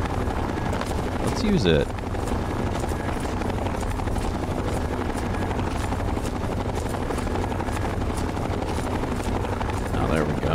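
A helicopter in Fallout: A Tale of Two Wastelands makes a steady, loud rotor drone that runs throughout, with someone talking over it briefly.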